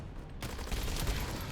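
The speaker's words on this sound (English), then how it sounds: "I could just shoot this motherfucker" Rapid automatic gunfire from a weapon in the video game The First Descendant, a dense, loud burst that starts abruptly and continues steadily to the end.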